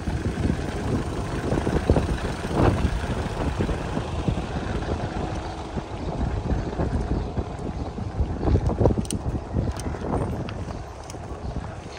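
Strong wind blowing by the sea on the Aegean coast near Izmir, a loud continuous gusty rumble buffeting the microphone throughout, with no clear voices.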